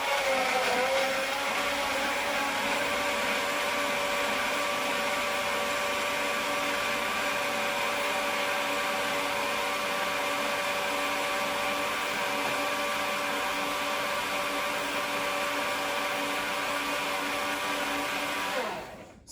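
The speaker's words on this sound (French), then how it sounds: "Je vais mixer tranquillement." A blender runs steadily while mixing a protein shake of nuts, oats and a little honey, a loud continuous motor whir with a constant pitch that holds for nearly twenty seconds before cutting off abruptly at the end.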